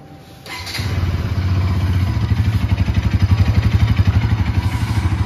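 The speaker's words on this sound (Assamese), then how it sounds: "NS 200 আপোনালোকৰ মাতটো ধুনীয়াকৈ শুনাই দিওঁ" A Bajaj Pulsar NS200 motorcycle starts up close by with a short cranking whir, then catches into a loud, steady, pulsing idle that throbs evenly until the end.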